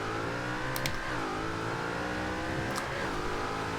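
A 2010 Noble M600 launches and accelerates hard on a rainy track in Forza Horizon 2, its engine note climbing in pitch, dropping sharply at two gear changes and then rising again, loud and continuous.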